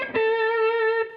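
An electric guitar played through an overdrive pedal with the gain turned up rings out as one picked note, mildly distorted and sustained for about a second before it cuts off, with no talking.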